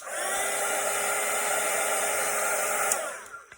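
A hair dryer blows in a steady, loud, close whoosh over a watercolour painting, running continuously for about three seconds before switching off and spinning down.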